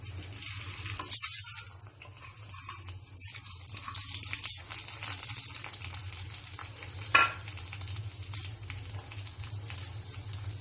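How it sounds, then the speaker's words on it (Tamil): Dried red chillies and urad dal frying in a little oil in a pan, a continuous close crackling sizzle with scattered stirring rattles and a brief louder burst early on, with no voices. "கொஞ்சமா எண்ணெய் விட்டுட்டு இந்த வெத்த மிளகாவையும் உளுத்தம்பருப்பையும் அதில் போடுறேன்"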